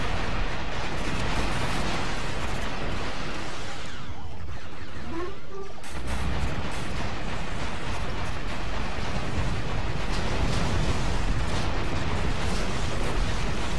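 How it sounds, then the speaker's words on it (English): Blaster fire in Star Wars Battlefront on a chaotic Mos Eisley battlefield, a continuous wall of laser shots and explosions that briefly drops out before surging back, loud and dense throughout. "I'm just kind of randomly shooting now"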